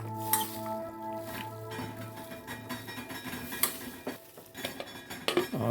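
Mutton being mixed with yogurt in a bowl, with clinks and scrapes of a utensil against the bowl and wet squishing, fairly close and irregular.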